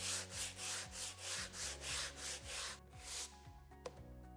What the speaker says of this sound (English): My paintwork is complete, the paint has dried, and now I'm going to sand.